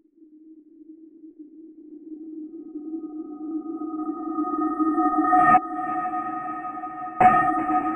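A granular synth patch in Omnisphere built from a toaster bell swells slowly from a soft, low hum into a louder, ringing tone, with two sharp bell-like strikes adding bright overtones near the end.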